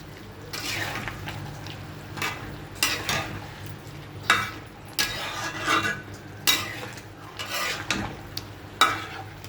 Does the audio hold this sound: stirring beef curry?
yes